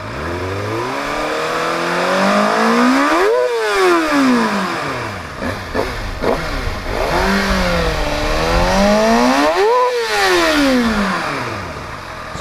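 A 2016 Kawasaki ZX6R on its stock exhaust revs hard and high several times, the pitch sweeping up and falling back in repeated loud blips between idle, close and with no talk.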